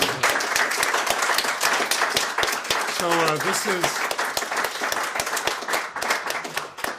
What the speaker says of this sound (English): I want to give Mike a round of applause for that.